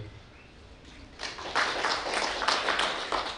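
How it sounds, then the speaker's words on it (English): Applause follows a speech at a Catholic sisters' COVID-19 vaccine ambassadors launch, starting faint and swelling into steady clapping from a gathered audience. "And you can see it's accompanied with that automatic applause."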